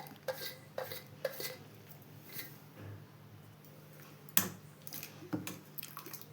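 A spoon works through millet (sajja flour) dosa batter with chopped onion, green chillies, curry leaves and coriander in a bowl. Soft wet stirring and scraping sounds come with a few clinks against the bowl, faint and close.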